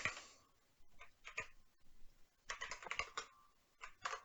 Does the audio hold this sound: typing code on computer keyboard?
yes